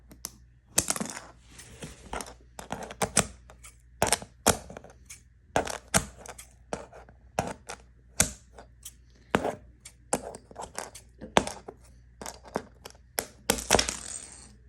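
Blades snip and crunch into a small knockoff Lego zombie minifigure, producing a long series of sharp, close plastic clicks and snaps in irregular rhythm.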